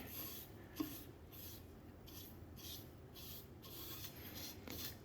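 Soft, continuous rubbing and scraping of a brush applying stain back and forth over a wooden rifle stock from a Traditions Kentucky Rifle kit, steady and close, with no talking.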